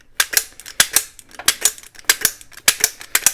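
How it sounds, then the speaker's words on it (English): A hand-pressed jerky gun clicks repeatedly as it squeezes out strips of ground beef jerky, a steady run of sharp, close mechanical snaps with short pauses between pulls, no talking. "All you do is press the little handle there and squeeze out a few jerky slices"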